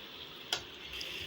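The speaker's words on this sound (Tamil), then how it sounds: "இப்போ அந்த தக்காளி கத்திரிக்காய் எல்லாம் அந்த எண்ணெயிலே வேகணுங்க." Brinjal and tomato pieces fry in oil in a pan, giving a faint steady sizzle with one brief clink of a utensil and no talking.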